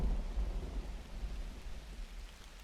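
Steady rain with low rumbling thunder in the city-building game Universim, a continuous wash of rainfall over deep, rolling storm rumble with no voices.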